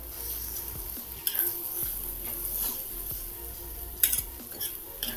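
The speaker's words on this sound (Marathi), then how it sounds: "हे अंड टाकले की मात्र चांगलं हलवायचं, सतत मिक्स करून घ्यायचं" Eggs for anda bhurji sizzle and fry in a pan while a utensil stirs and scrapes them steadily, with a few sharper clinks against the metal, close up and without talk.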